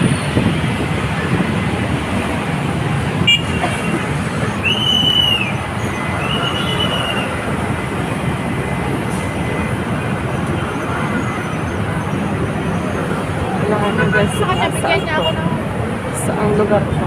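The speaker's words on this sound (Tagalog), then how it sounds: "Grabe na ang traffic." Congested road traffic in Bigotan makes a continuous low rumble of idling and rolling vehicles, with a few short horn-like tones partway through and faint voices in the mix.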